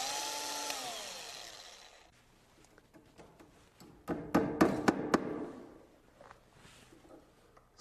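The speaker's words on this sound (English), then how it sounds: "Drill a couple holes where the nails go." A power drill whirs briefly, drilling nail holes in wooden stair parts, followed by a burst of sharp taps and knocks in wood, then quiet.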